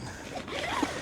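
An SUV camping tent's zipper is drawn quickly in one continuous pull, close and fairly loud, with a rising rasp partway through.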